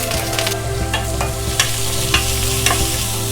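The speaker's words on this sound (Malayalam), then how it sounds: "ഇപ്പോൾ ഉള്ളി കുറച്ചൊന്ന് വഴന്നു വന്നിട്ടുണ്ട്" Sliced onions and curry leaves fry in coconut oil for a beef dum biryani, a steady close sizzle with a few soft clacks of a spoon stirring through the pan and no voices.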